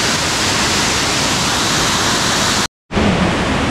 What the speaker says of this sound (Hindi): ये लास्ट वाला वाटरफॉल है।